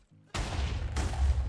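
A sudden loud blast from a TNT cannon in Minecraft, a near explosion bursting in after a brief quiet moment and followed by a second overlapping boom, leaving a rumbling wash of noise.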